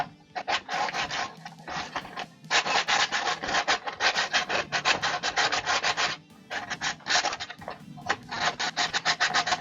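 A carved wooden penguin is sanded by hand, producing loud, close, gritty scrubbing strokes in a fast even rhythm, broken by a few brief pauses, with no voices.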